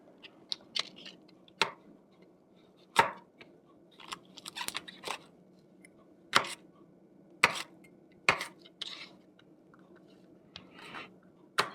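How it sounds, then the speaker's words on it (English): Sharp, irregular knocks of a knife chopping steak on a cutting board, spaced unevenly with quiet gaps between strokes, close up. "this I'm going to be chopping a little more finely"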